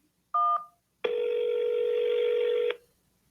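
A single telephone keypad key is pressed on an automated phone menu, giving one short DTMF beep followed by a longer steady tone, both clear and close with no talking.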